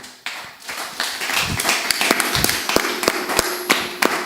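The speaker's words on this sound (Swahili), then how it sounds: "Hebu tupigie Yesu makofi mazuri." A church congregation at a Sunday service claps for Jesus in a dense, loud burst of applause with a few sharper rhythmic claps standing out near the end.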